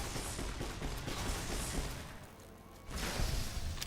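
Grenades going off in a Fallout: New Vegas firefight, a dense run of blasts and gunfire rumbling through, with a brief lull before another loud burst.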